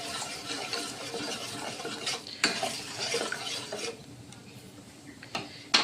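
Sugar and water simmer into syrup in a pan on the stove while a spoon scrapes and clinks against the pan in quiet, uneven strokes, with soft bubbling underneath.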